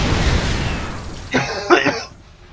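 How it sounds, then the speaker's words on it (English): A single muffled cough, fairly close, rising briefly out of a low background hum before fading to quiet. "Still suffering from that cough."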